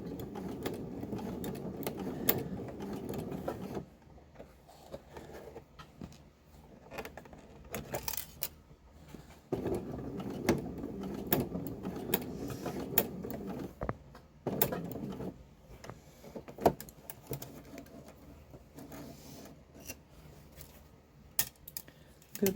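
A sewing machine runs long basting stitches on its highest setting while pants are sewn, with bursts of quick mechanical clatter separated by pauses, handling clicks and fabric shuffling, close and fairly quiet.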